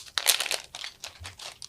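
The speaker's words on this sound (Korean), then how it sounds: "이 큐브를 열어볼게요" A Rubik's cube package is opened up close, with several quick bursts of plastic crinkling and crunching separated by short pauses.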